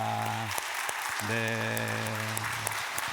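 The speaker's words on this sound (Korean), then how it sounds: "우리 교회가 떠나갈 만큼 힘차게 박수 한번 하도록 하겠습니다" A congregation at a Sunday worship service applauds in a broad, sustained wash of clapping beneath held keyboard or organ chords, with a brief spoken word.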